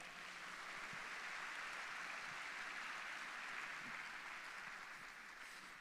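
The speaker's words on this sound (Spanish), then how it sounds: "les pido un aplauso para mi esposo" Steady applause from a church congregation during a service, a continuous even wash of clapping, fairly distant and quiet, with no talking over it.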